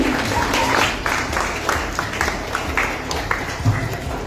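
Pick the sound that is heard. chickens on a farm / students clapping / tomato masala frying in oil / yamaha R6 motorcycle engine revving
students clapping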